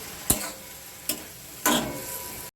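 Sliced tomato goes into a pan with spices: a soft background sizzle broken by three sharp clacks of a spoon against the pan, the last one followed by a louder, sustained hiss.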